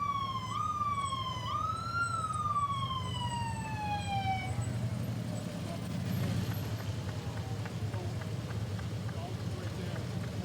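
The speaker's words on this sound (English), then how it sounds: "it's always comforting to hear the police vehicles, because now you know they're on the way" Pittsfield Police motorcycles in an Independence Day parade sound their sirens, a loud wailing sweep that rises and falls for several seconds before cutting off, leaving a steady rumble of engines and crowd noise.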